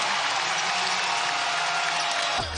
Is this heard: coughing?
no